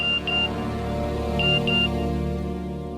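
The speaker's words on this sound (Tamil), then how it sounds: "மெசேஜ் வந்திருக்கு." A phone message notification sounds as a pair of short high beeps, repeated a second time a moment later, over a steady low background hum.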